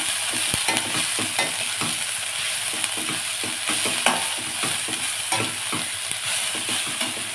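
Amaranth greens (sirukeerai) fry and sizzle in a pan under a steady hiss, with a spoon stirring and scraping in regular clinks and taps, close and moderately loud, no voices.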